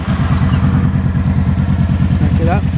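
A 2012 Kawasaki Vulcan 1700 Voyager motorcycle with stock exhaust idles close by with a steady, low, pulsing rumble; a brief voice sounds faintly near the end.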